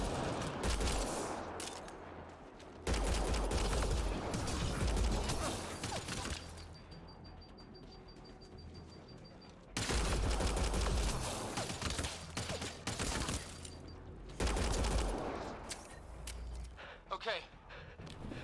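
Gunfire erupts in the Mass Effect: Andromeda video game, with loud bursts of shooting in several waves amid clanking mechanisms and voices talking between the volleys.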